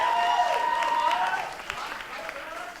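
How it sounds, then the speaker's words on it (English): Brief crowd applause at the Ghungroo 2020 Saturday night show, a soft clapping wash with a sliding whistle-like tone over it early on, tapering off quickly. "Could we give them a round of applause?"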